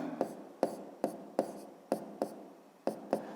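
Pen strokes scratch across paper in short bursts, about eight quick marks with brief pauses between them, close and fairly soft while a geometry exercise is written out by hand.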